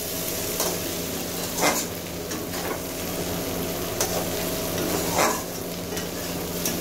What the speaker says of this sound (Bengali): আমি মিশিয়ে দিলাম